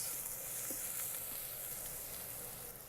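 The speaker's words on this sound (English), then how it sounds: "Now we are going to add minced ginger and garlic. Fry this until you get all the aroma out." Minced ginger and garlic fry in an Instant Pot with a steady, soft sizzle and a faint stir or two, no voices over it.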